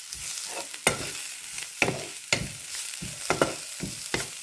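Leeks and curry leaves sauté in hot oil, a steady crackling sizzle punctuated by several sharp scrapes of a spatula stirring in the pan at a rhythm of roughly one per second.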